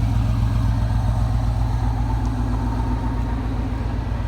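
A 1986 Pontiac Fiero SE exhaust, with its leak fixed, burbles steadily at idle, a low pulsing rumble that stays even and close throughout.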